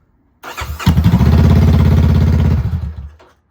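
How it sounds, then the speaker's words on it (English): A 2025 Honda CBR500R motorcycle engine cranks and fires up with its exhaust removed, settling into a loud, rapid, raw idle that pulses steadily for a couple of seconds before cutting off. "I just want to see how this sounds without the exhaust real quick"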